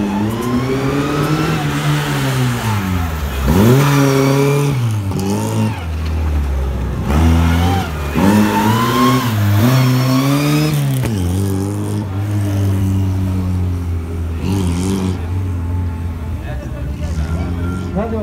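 A Lada car engine revs hard at a race start during a Lada meet, rising and falling through several loud, close revving sweeps before settling, with voices talking underneath.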